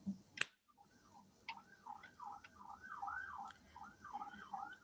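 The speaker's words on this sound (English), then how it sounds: "I'm hearing a lot of siren." A faint, distant siren wails in a repeating up-and-down pattern, with a sharp click or snap just before it begins.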